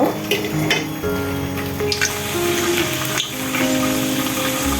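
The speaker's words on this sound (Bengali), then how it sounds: "এভাবে আমি সব পিঠাগুলো ভেজে নেব।" Patterned Bengali pitha fry in hot oil with steady sizzling and bubbling close up. Occasional drips and clinks sound over the sizzle, and no one speaks.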